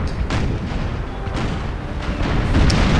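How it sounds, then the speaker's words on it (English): Ship cannons in a naval sailing game with a sound mod fire in a rapid volley of heavy booms, loud and close, blending into a continuous rumbling barrage. "Man, I love those cannon noises."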